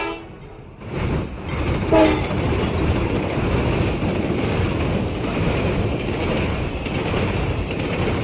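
A train at Vila Nova de Famalicão gives a brief horn blast, then rumbles past loudly and steadily with a continuous roar of wheels and carriages.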